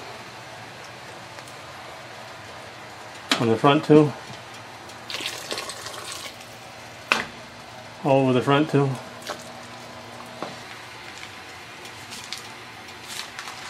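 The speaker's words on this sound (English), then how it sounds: "ladle some of the boiling water over the duck just to seal in the skin" Boiling water from a wok ladled over a whole raw duck to seal the skin, two bursts of pouring splashes a few seconds apart, with someone talking between them.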